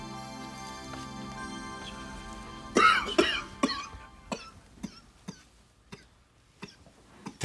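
Elderly Korean official in a period drama coughs harshly several times in quick bursts, then a series of separate, fainter coughs and throat clears spaced out over a quiet indoor room with a soft musical backdrop.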